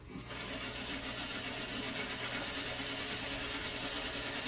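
A serger sewing machine stitches a dog bandana, running in a steady, fast, even mechanical whir that starts abruptly and continues alone without pause.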